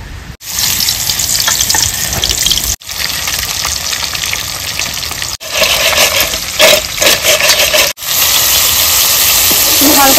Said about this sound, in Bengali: আমি প্রথমে কাতলা মাছ ভেজে নেব